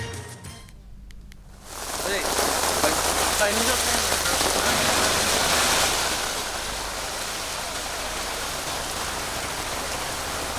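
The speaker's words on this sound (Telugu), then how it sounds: "ఉప్పల్ పరిసర ప్రాంతాల్లో భారీ వర్షం పడుతోంది" Heavy rain pours down in Uppal, Hyderabad, a dense steady roar of drops on surfaces that swells loud after a brief quieter start and keeps going without a break.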